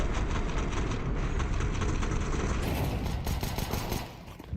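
A grenade blast and gunfire in a Counter-Strike match, heard as dense, continuous loud rattling bursts throughout, fading slightly near the end, with no voices over it.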